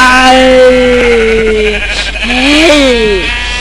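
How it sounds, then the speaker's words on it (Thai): Sheep in the Minecraft video game bleat loudly and close, a long wavering cry followed by a second rising-and-falling one, with a voice talking over the calls. "นั่นมันแกะนี่วะ"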